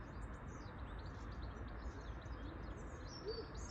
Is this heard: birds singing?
yes